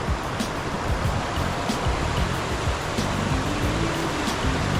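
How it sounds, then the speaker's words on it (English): Steady, broad rush of a waterfall near Whittier, Alaska, heard as a continuous loud roar of falling water with no pauses. "There's a waterfall coming off the left up there."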